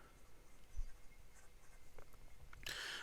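A fountain pen with a fine steel nib, a Leonardo Momento Zero Grande, scratches softly across paper in faint, close strokes, ending with a brighter, louder scrape of the nib.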